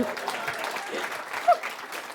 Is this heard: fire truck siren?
no